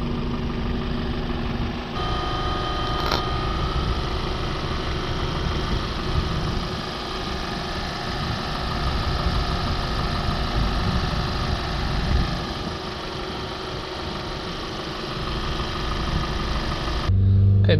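A Ford Transit MK8 2.0 diesel engine idles steadily and close by throughout, a low continuous rumble with no talking.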